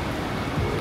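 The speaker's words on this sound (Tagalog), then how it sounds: "Parang sinusundan tayo ng ulan" A short burst of rain in Hong Kong, a close, full patter of drops hitting a surface at a fairly loud, even level.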